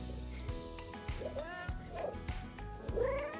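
A cat dressed in ruffled pajamas meows several times in short rising calls, close, over a busy background with some rustling.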